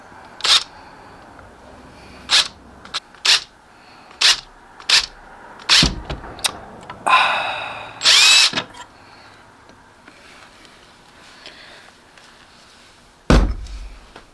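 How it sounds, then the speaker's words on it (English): A small drill whirs in a brief burst, drilling a handmade cockroach fishing lure, among a series of sharp clicks and taps, then the room falls quiet. "Smallest drill bit I got"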